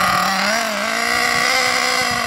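Small nitro engine of an Ansmann Virus 2.0 BigBlock RC car, still running rich while being driven with light throttle, buzzes loud and steady throughout with a slight dip in pitch partway.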